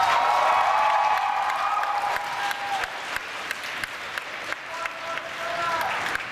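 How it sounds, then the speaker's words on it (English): Sustained applause from a large convention audience at an anime convention's closing ceremony, loud and steady with sharp individual claps, fading slightly then swelling again near the end. "huge round of applause."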